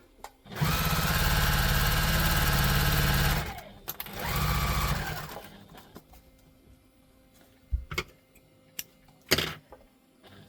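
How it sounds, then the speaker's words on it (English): A sewing machine basting tote bag pieces together in two loud bursts of stitching, a long run then a shorter one, followed by scattered clicks and handling noises. "we're just going to go all the way around to baste"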